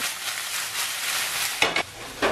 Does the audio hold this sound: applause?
no